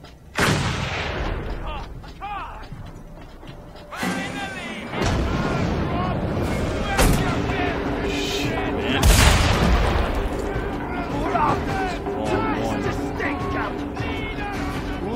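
Gunfire and heavy booms from the video game Mad Max, with loud bursts of shots and blasts recurring throughout over a busy game soundscape, while a person talks.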